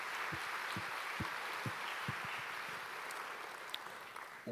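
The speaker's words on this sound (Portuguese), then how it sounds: "Você pode dar um aplauso ao Senhor Jesus nessa noite?" A church congregation claps at an evening service, a broad, faint wash of many hands with a few sharper close claps standing out, sustained throughout.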